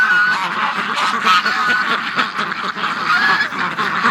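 Wintering geese honk and ducks quack in a dense, continuous chorus close by, overlapping calls filling the scene at steady loudness with no voices.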